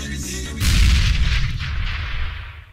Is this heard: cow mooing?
no